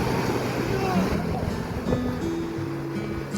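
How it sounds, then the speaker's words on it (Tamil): Ocean waves roll in with strong wind at Marina Beach in Chennai on a quiet morning, a continuous loud wash and roar, with a person speaking over it. "ஒவ்வொரு அலைகளும் சும்மா வேகமாக காற்றுடன் வீசுங்க"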